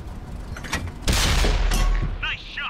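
Tank shell bouncing off the front armor plate of a Motherland tank in World of Tanks console, a heavy metallic impact boom followed by a second clang and a fading whine, with a voice talking faintly underneath.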